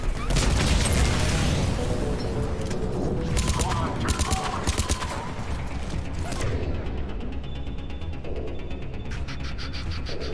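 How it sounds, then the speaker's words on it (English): Turret gunfire in the video game Mass Effect 3, rapid bursts of shots and mechanical clatter mixed with other combat noise, loud in the first half and thinning later, with talk over it. "That's what's making that sound. Freaking turret."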